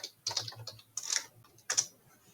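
Short bursts of keystrokes on a computer keyboard as a place name is typed into a search field, close and fairly quiet, in three quick clusters with pauses between.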